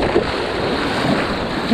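Ocean waves break at the Forte Copacabana surf spot in Rio de Janeiro, a constant rushing wash of surf heard close with wind buffeting the microphone.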